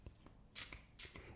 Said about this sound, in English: And when it comes to shuffling this deck, you guys,